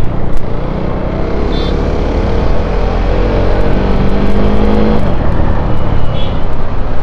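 KTM Duke 390 motorcycle engine running with a modified rev limiter, a loud close continuous drone with rising and falling engine tones, without pauses throughout.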